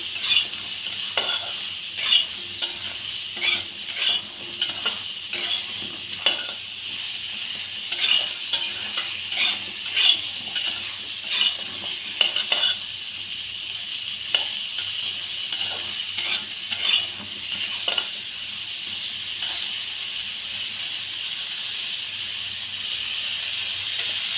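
Pointed gourd cooks in a pan with turmeric and salt, a steady hiss of frying oil under a run of clinks and scrapes as a spoon stirs it. The sound is close and goes on throughout.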